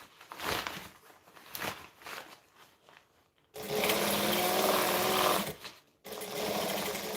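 A sewing machine backstitches along a bag seam, stitching in short bursts with a pause before a longer, louder steady run and a brief final burst, close up with no talking.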